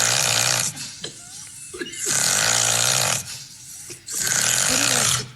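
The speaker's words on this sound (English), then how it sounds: "That is legitimate snoring." Loud, rasping snores like an animal struggling for breath, coming in three long, heavy pulls with short gaps between them, close and dominant, with the rhythm shifting between breaths.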